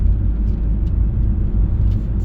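A car coasting downhill in third gear at about 21 to 24 mph on a mountain road, a steady low engine and road rumble heard from inside the cabin, constant and close with no talk.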